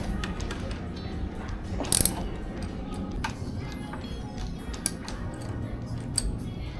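Ratchet wrench clicking steadily as it loosens 10mm bracket bolts on a Suzuki GSX 150 motorcycle, a close, continuous run of fast mechanical ticks with a few sharper knocks.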